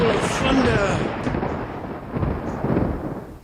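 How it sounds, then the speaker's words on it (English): A rolling thunder effect accompanies a told medieval tale, a broad continuous rumble that swells and then trails off for several seconds. A faint voice can be heard beneath it. "There was a flash of lightning, a roll of thunder."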